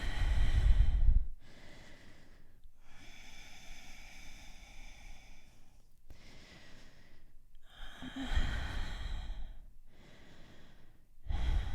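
Deep slow breathing during a yoga stretch, several long airy inhales and exhales in a quiet room, close and soft, with a louder breath at the start and another swelling around the middle.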